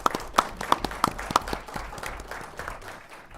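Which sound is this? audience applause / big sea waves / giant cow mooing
audience applause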